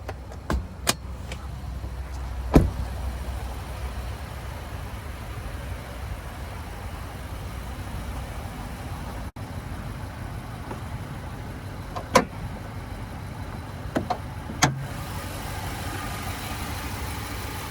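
Nissan Titan Platinum Reserve with a 5.6 liter naturally aspirated V8 idling steadily with a low hum, nearby clicks and a few sharp knocks over it.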